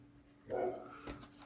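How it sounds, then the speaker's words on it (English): A dog barks once, a short muffled woof at moderate distance, with a fainter second yip just after against a quiet indoor room. "Oh, there she is barking again."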